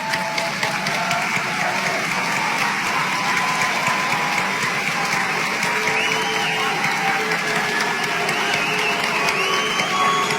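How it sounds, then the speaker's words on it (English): A large graduation crowd at Boise State claps steadily, dense sustained applause from many hands filling a big hall, with scattered cheers mixed in. "graduates, please stand up and applaud your families, your faculty, the staff, and all of Boise State"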